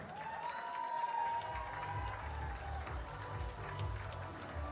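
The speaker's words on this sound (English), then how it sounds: "as he leaves the stage, a massive round of applause" Applause and cheering from the crowd at a darts world championship as a player leaves the stage, a steady, fairly distant wash of clapping under a continuous tone.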